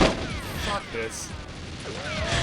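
Gunfire from weapons in the video game GoldenEye 007 crackles in busy bursts under a player's talking, with a loud burst at the start and more shots scattered through the mix.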